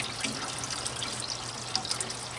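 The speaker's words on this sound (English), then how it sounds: "I got some more water to be putting into my water pan so I can fill it up before I forget" Water pours and trickles steadily into the water pan of a smoker while a brisket cooks, a close, continuous splashing with no voices.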